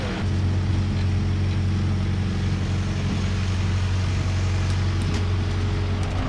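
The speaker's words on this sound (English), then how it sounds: "it's just a 4-cylinder John Deere running" A 4-cylinder John Deere diesel idling steadily on a squash farm, low droning rumble with a constant pitch, close and loud throughout with no talk.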